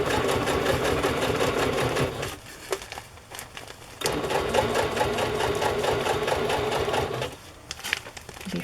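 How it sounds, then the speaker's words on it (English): A sewing machine runs in two bursts along a bag seam, a rapid close mechanical whir with a short pause between runs and light handling noises. "I'm going to follow the same seam and put my needle down before I start sewing"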